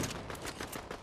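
Rapid gunfire in Fortnite Chapter 5 Season 2, with a string of quick, fairly quiet shots in a steady, overlapping rhythm that sounds somewhat distant, and no voices.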